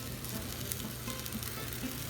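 Chicken thighs fry in a pan with a steady, soft sizzle and a few faint pops, quiet and unbroken with no talking.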